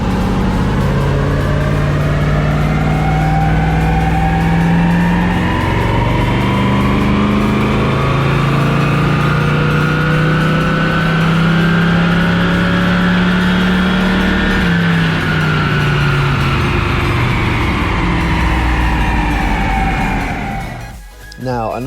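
A 50-year-old classic Plymouth muscle car engine roaring on a dyno, loud and continuous as it climbs steadily in pitch through a long pull, then backs off sharply at the end.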